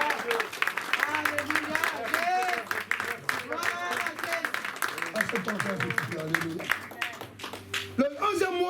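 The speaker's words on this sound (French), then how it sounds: "Acclame Jésus-Christ." A church congregation clapping and cheering in praise during a sermon. Sustained applause fills the room beneath a preacher's loud, continuous speech.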